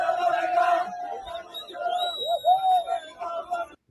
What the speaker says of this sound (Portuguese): Aí a torcida celebrando que o CRB jogou hoje, né?